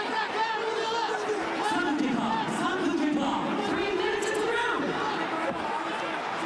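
A crowd roars continuously at a fight, dense chatter and shouting swelling and dipping in waves, with occasional whoops standing out over the din.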